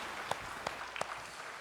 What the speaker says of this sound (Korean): 박수로 하나님께 드리겠습니다.